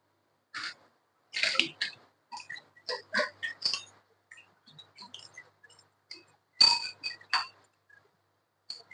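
A spoon stirs chia seed water with sugar and lemon in a glass, giving a series of bright, close clinks and taps in irregular bursts with quiet gaps between them, no voice over them.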